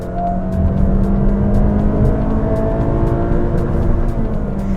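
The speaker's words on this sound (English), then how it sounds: "It revs and revs." A naturally aspirated VTEC petrol engine in a 2020 Honda City, heard as a loud, close, sustained engine note that holds a steady pitch while it revs, with no talking.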